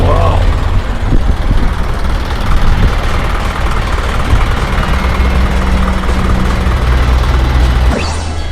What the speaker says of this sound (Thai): สภาพเครื่องยนต์นะครับ FRR เครื่องยนต์ 210 แรงม้านะครับ